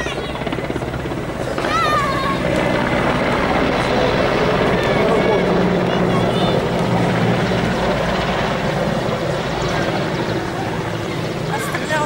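A military helicopter passes during an exercise at a Sevastopol city-day display, its rotor and turbine drone loud and continuous throughout, with crowd noise and people talking nearby.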